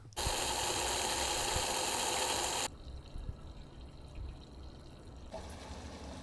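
Water rushes steadily from a tap into a truck camper's water tank for a couple of seconds, then cuts to a quieter trickle and faint background noise.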